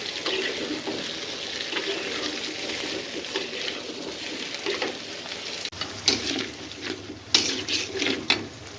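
Spice paste frying in oil beside fried pointed gourd, a dense sizzle with stirring, metal spoon clinks against the pan and a clatter of utensils toward the end, no talk.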